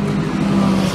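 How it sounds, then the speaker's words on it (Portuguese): Race car driving into the pit box, a loud, steady engine drone with a sustained low tone, close and continuous, with no talk. "você ver muitos carros andando na pista, entrando diversas vezes no box, como é o caso desse daqui"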